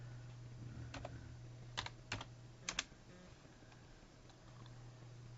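Quiet bursts of clicking keystrokes on a computer keyboard, a few short clusters separated by pauses over a steady low hum.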